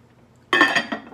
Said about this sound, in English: So we're gonna pop a lid on this.